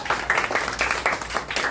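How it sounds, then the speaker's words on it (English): A small classroom group claps for student Muhammad in a summer English course, a short burst of a few hands beating in uneven rhythm, close and moderately loud. "Big clap for Muhammad."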